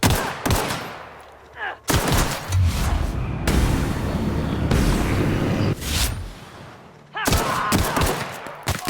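Bursts of gunfire in the sci-fi shooter game The Outer Worlds, loud and close, with dense volleys broken by brief pauses and sharp single shots near the end.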